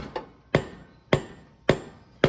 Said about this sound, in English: How many times do I gotta hit you with this hammer?